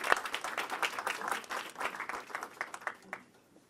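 Audience applause at a Gulf policy forum in Washington, a crisp burst of many hands that thins into scattered claps and fades out by the end.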